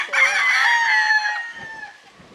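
A gamefowl rooster of Claret over Boston breeding crows once on a game farm, a loud close call lasting about a second and a half before trailing off, with faint background noise after.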